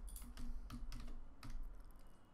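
Soft, quick keystrokes on a computer keyboard while code is entered in Android Studio, an irregular run of light clicks heard close and quiet with no talking.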